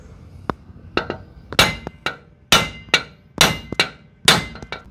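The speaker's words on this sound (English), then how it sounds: "gonna come in with your sledgehammer, really line up, pull back, bam" A sledgehammer strikes a tool set on a wheel bolt, giving about eight sharp, ringing metallic clangs. The blows come at an uneven pace, close and loud, with faint lighter taps between them and no talking.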